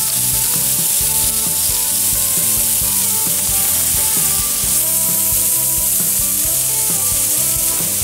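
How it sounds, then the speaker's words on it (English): Wild turkey and deer meat kebabs sizzle steadily in a pan, a loud, continuous frying hiss with clattering and tonal kitchen sounds layered over it throughout. "Cooking us up some kebabs."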